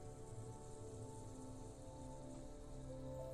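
The Hailstorm spell effect in the video game SpellRogue makes a steady, even patter like heavy rain on a surface, holding constant for the whole stretch beneath sustained tonal game music.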